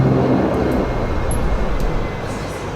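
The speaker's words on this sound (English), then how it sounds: "Go ahead and go for shutdown on the engines now." Majestic Q400 turboprop engines spooling down after shutdown in the FSX flight simulator, a loud broad rumbling roar that gradually eases and fades over a few seconds.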